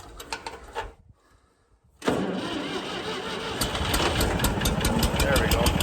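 An engine cranks after being choked, falling briefly quiet before catching and settling into a loud, steady running roar at close range.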